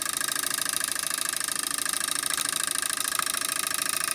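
A homemade twin-coil vibrating electric switch circuit buzzes with a steady, rapid electrical hum that holds without a break, close and fairly loud, with no voices.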